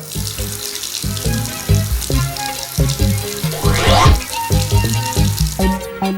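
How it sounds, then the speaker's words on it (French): Water runs steadily from a household tap into a sink, a brief rushing swell partly buried beneath louder background music. "Ne laissons pas couler l'eau du robinet en attendant qu'on se brosse les dents."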